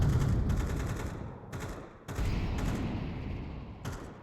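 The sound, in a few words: gunfire in a video game (Counter-Strike, Anubis map)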